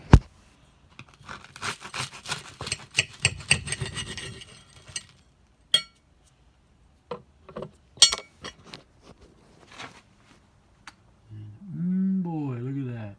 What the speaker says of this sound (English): you can hear how crispy that bread is